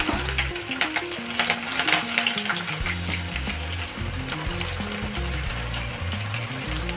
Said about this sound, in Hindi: ऑयल अच्छी तरह से गर्म हो चुका है। अब हम इसमें लहसुन डाल देंगे, हरी मिर्च, अदरक,